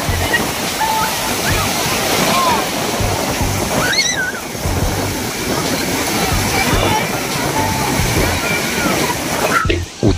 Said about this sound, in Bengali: উত্তাল সমুদ্রের আওয়াজে কান পাতা দেয়।